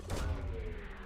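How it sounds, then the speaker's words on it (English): A probe launching in Mass Effect 2 Legendary Edition, a short whooshing burst with a low thump and rumble that trails off over about a second, loud and close with no talk over it. "Launching probe."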